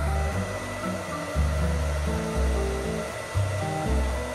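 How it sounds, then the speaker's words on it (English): A hair dryer blows hair dry with a steady, close, loud whooshing roar, its airflow surging and dipping slightly as it moves across the hair. "I want to at least get the blow drying done before"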